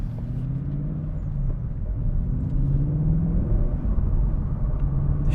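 The engine of a 2022 Ford Mustang Mach 1 with about 3k miles rumbles low and steady from inside the car while driving, its pitch slowly rising and falling under road noise, with no talking.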